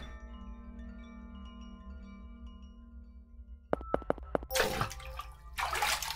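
A bucket of water is poured out in a crayon-drawn video game: after a soft tonal music bed and a few sharp clicks, two short rushing splashes of water burst out.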